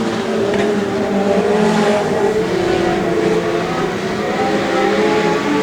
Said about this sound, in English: The number 70 of Brendan Radford sneaks down the low line to take the lead off Olivia Favaro as we come around to complete the first lap.